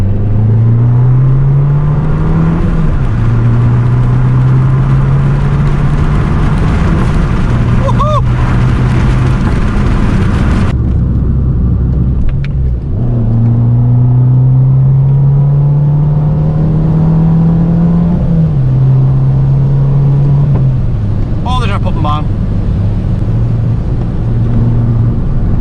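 Fiat 595 Abarth hatchback driven hard on back roads, engine droning and rising through revs, easing off between pulls with gear changes and brief pops, loud and close from inside the cabin.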